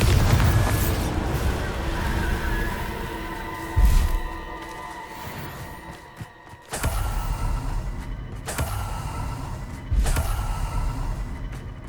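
Bombarda explosion spell cast in Hogwarts Legacy, a deep booming blast with a rumbling, echoing tail, followed by further heavy thuds and low impacts, loud and alone without talk.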